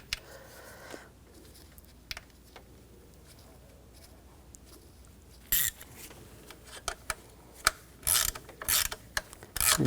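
Small metallic mechanical clicks and ratcheting as screws are started and tightened on a 2004–2009 Audi A4 Quattro 2.0L I4 engine during knock sensor replacement, faint at first, then sharper bursts of close ratchet clicks toward the end.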